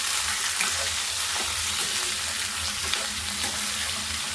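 A pan of ivy gourd and coconut fry is stirred over a low flame, giving a steady sizzle with repeated soft scraping and tossing sounds.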